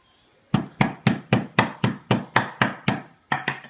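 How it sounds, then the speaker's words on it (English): A series of about ten solid, evenly paced thuds as a hammer pounds meat on a board, then a short pause and three more quicker blows. "once you hit them with a hammer, they get twice as big."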